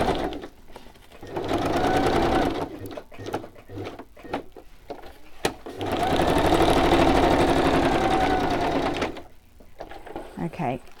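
A sewing machine stitches in two long, steady runs, a close, even mechanical whirr separated by quieter gaps with small clicks and handling noises.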